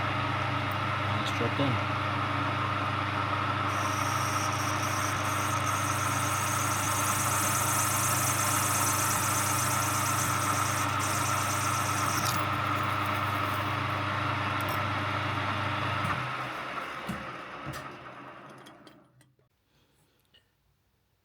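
A lathe runs steadily with a continuous mid-pitched hum while a parting tool cuts off a titanium ferrule with cutting oil. A brighter high whine joins partway through, then the machine spins down into silence, and a voice speaks briefly.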